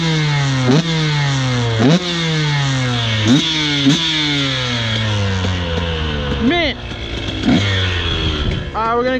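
A motorbike engine in the Utah dunes revs hard over and over, each loud, close rise in pitch followed by a falling whine, with quick throttle blips near the end.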